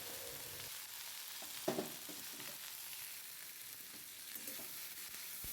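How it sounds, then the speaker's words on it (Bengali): Bitter gourd chorchori frying in a pan after a panch phoron tempering, a steady close sizzle with light stirring scrapes and a brief louder clatter near the start, no talking. "আমি আগে একটু পাঁচফোড়ন ফোড়ন দিয়ে সব একসাথেই এর মধ্যে দিয়ে দিয়েছি"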